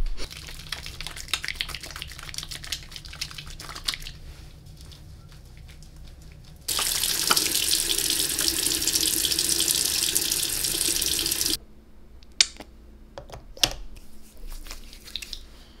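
A bathroom sink tap is turned on full and runs steadily for about five seconds during face washing, with softer splashing and handling noises before and after.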